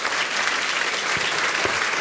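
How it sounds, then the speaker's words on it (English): An audience at an economics conference applauds the speakers, a brief, dense burst of clapping filling the room evenly from start to finish. "Big round of applause to these speakers"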